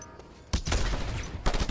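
Gunfire in the video game Just Cause 2, with a loud sustained burst of shots starting partway through and another sharp burst near the end, close and dense.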